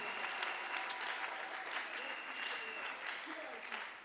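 A church congregation applauds God, a steady wash of clapping from many hands that holds at an even level throughout without stopping.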